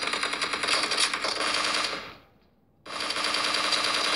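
Gunfire from PUBG Mobile rattles in a loud, rapid automatic stream, cuts out into near silence for under a second, then resumes just as dense and close.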